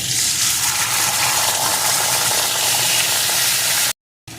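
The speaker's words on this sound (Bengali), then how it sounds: "ফোড়নগুলো ভালো করে ভেজে নিয়ে এর ভিতরে দিয়ে দেবো এক চা চামচ জিরে আদা বাটার পেস্ট" Cumin seeds and ginger paste sizzle steadily in hot oil in a pan, a loud continuous frying hiss that cuts off abruptly near the end.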